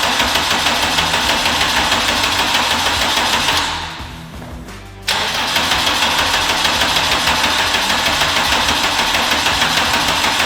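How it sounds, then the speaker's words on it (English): Honda K20 engine turning over on the starter with no fuel, a steady rapid rhythmic cranking chug with a brief pause partway through, close and loud with no talk. "we could move on to then cranking the engine over without any fuel, so we can make sure that we build oil pressure"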